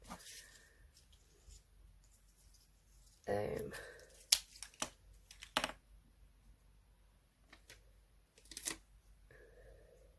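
Paper being cut down for a planner spread, with a burst of snipping and rustling in the middle and a few later crisp snips, quiet and close, and a voice speaking around them.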